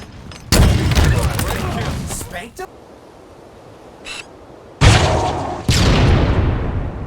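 Gunfire and explosions from the first-person shooter Halo Infinite: dense bursts of loud weapon fire, a pause, then renewed heavy blasts, with a voice speaking over parts of it.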